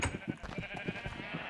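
Black sheep in Minecraft bleat in a short burst of several quick, close, wavering calls with no talk over them.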